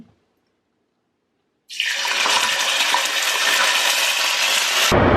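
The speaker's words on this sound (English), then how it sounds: "Just added water after the tomato sauce because it didn't know how to act." Water pouring into a cooking pot that already holds tomato sauce; after a short silence, a loud, steady splashing gush runs for about three seconds and then stops abruptly.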